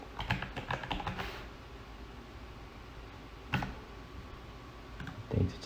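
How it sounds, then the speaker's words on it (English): Computer keyboard typing in bursts, with a quick flurry of keystrokes at the start and scattered clicks later, fairly quiet and close with no talk. "Type, just start typing LM, and you can see it pop up there"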